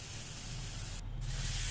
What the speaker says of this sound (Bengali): এখন কষানো হয়ে গেল, এখন আলুগুলো দিয়ে দিচ্ছি।